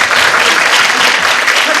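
Graduates at a university foreign-language college degree ceremony clap for their parents, a dense, loud, steady wall of applause filling the hall throughout.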